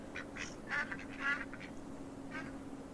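Ducks quacking in the video game Farm Together 2, several bursts of quacks spread across the clip over a steady hum, with no talking.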